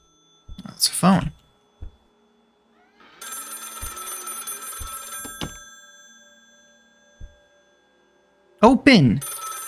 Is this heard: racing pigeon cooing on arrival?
no